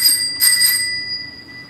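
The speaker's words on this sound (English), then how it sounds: "you have been saved by the doorbell" A doorbell rings in a period drawing room setting, two bright chiming strikes with sustained ringing tones that fade out over about a second, no talk.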